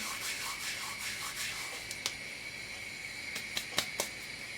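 Dried fenugreek leaves (kasuri methi) crushed between the hands over a pan while making paneer angara, giving soft, close dry rustling and rubbing with a few sharper crackles and no talking.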